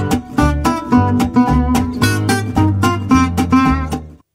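A gypsy jazz guitar plays a quick lick quoting the melody of a song: bright plucked notes in a lively, rhythmic run, close and clear, with no voices.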